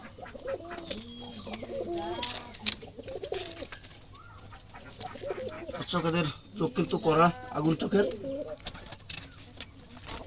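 Wild Jalali pigeons, a kept brown male among them, coo in soft repeated calls close by, mixed with other bird sounds while someone talks over them throughout.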